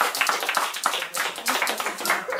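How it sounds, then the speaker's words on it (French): Applause for a parody TV quiz show opening, quick continuous clapping filling the whole short stretch at a steady, fairly close level. "Applaudissements, applaudissements si vous avez ça."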